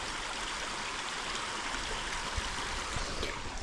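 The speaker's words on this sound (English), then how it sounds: "And then this is the actual river." A river in West Cork, Ireland flows steadily with a dense, continuous rush of water that stays even and close throughout, with no voices.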